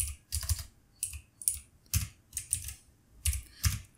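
Code is typed on a computer keyboard in separate quick clusters of crisp key clicks with short gaps between them, close and clear, with no talking.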